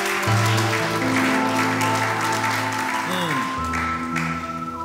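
A church congregation applauds and cheers in steady, sustained clapping, with sustained organ or keyboard chords and voices mixed in.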